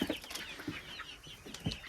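Chickens cluck in short, close bursts in a coop, with scratching and a brief flutter of wings among them.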